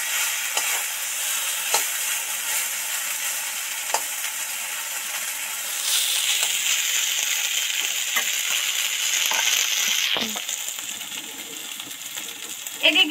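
Potatoes fry in a pan, sizzling steadily under repeated scraping and clinking stirs of a spatula, with a brief louder clatter near the end.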